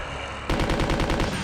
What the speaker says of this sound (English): Time for the machine gun.